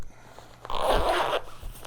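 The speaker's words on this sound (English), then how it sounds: "Zip it up." A zipper is drawn closed along a drone landing pad carrying bag in one steady, close rasping pull lasting under a second.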